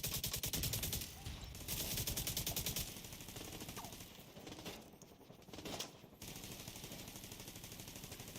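Sustained automatic gunfire in The Division 2, rapid close bursts rattling on for several seconds with brief pauses in between.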